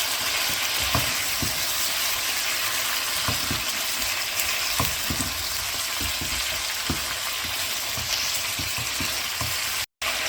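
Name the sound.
spices frying and being stirred in the pan for chicken korma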